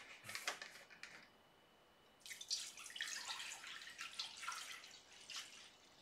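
Liquid for making taufu fah is poured into a container sitting on kitchen scales. A brief splash is followed by a pause, then a longer, quiet, trickling pour with splashy bursts, heard close up with no talk.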